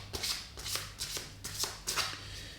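Oracle cards being shuffled and drawn from a deck, with about five crisp riffling bursts in a steady rhythm, close and fairly quiet, with no talk.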